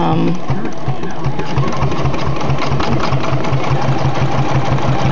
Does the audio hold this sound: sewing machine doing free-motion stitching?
yes